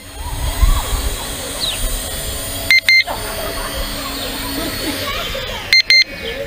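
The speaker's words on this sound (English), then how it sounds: "Is it going to stop beeping?" Two short bursts of high electronic beeps from a Holy Stone HS165 GPS drone during landing, a few seconds apart, over a steady whirring motor hum with faint voices.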